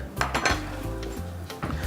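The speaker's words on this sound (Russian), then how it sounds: "сейчас мы все это перемешиваем" A spoon stirs a soy sauce marinade in a bowl, giving a few quick clinks and scraping knocks against the dish, close and moderately loud, with no talking.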